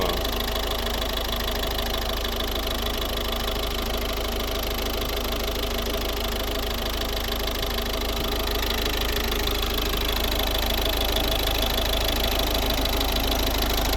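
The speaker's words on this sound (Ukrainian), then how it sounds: "Ось робота двигуна." A 2011 Volvo V50 1.6 D2 turbodiesel engine with Garrett turbo idles close by with a constant, dense clattering drone that holds steady throughout, no voices present.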